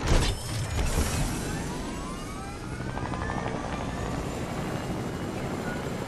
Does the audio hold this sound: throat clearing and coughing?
no